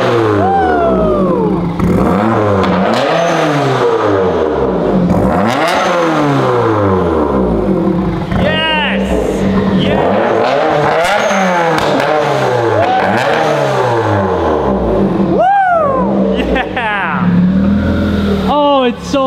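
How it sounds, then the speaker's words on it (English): A 2015 Subaru WRX with a new exhaust and turbo revs hard and close up, engine pitch rising and falling in repeated loud sweeps, with turbo whoosh and sharp blips between pulls. "Oh, we got the turbo noise back."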